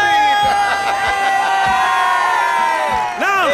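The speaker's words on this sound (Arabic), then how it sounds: "راسي راسي راسي راسي راسي راسي تصفيق" A large crowd cheers and chants together at a rally celebrating a vote, with loud overlapping voices sustained throughout and a brief dip near the end before the roar resumes.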